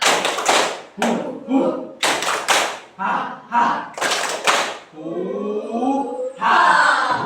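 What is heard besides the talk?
children doing a rhythmic "tepuk semangat" spirit clap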